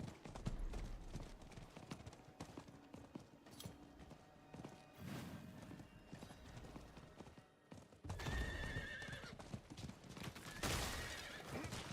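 A horse in the video game Diablo IV neighs loudly and its hooves clop in a steady rhythm, close and prominent over dense game effects and distant gunfire-like bursts.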